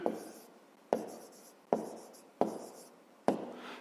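Pen strokes on paper while working a fifth-grade maths exercise, five short sharp scratches at a steady pace, each fading quickly, close and quiet, no talking.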